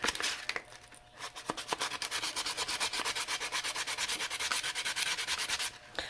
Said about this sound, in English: These ones came glossed, so I'm going to need sandpaper to polish them off first.